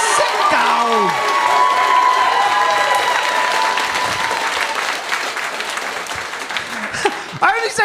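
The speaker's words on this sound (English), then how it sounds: "Applaud and cheer and whoop and clap for the one you want to win." A live audience claps, cheers and whoops steadily for a contestant in a head-to-head vote, dense and loud throughout, with scattered shouts and a voice briefly rising over the crowd near the end.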